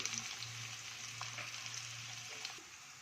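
Green chilies and onions frying in hot oil for egg bhurji give a soft, steady sizzle, fairly quiet and continuous, with a few light stirring clicks.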